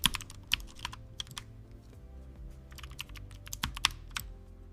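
Keys on a restored mechanical keyboard are pressed one after another in quick, uneven bursts of crisp clacks, close and fairly quiet, with no voices.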